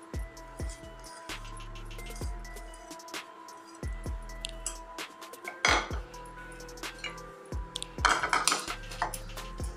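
Mashed potato and chopped coriander being mixed in a bowl for potato gram-flour snacks, with repeated close clinks and scrapes of a spoon against the bowl in an irregular rhythm, no talking.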